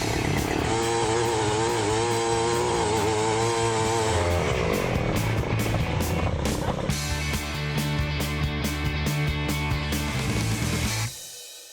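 A 52cc gas-powered dual-handle earth auger running, its two-stroke engine droning loudly and unevenly, revving up and down under load before cutting off abruptly at the end.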